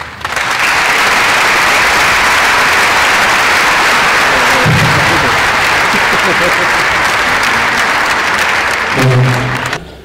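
A large audience applauds loudly and continuously at a public book event, a dense wash of clapping holding steady throughout, with brief voices surfacing near the middle and end.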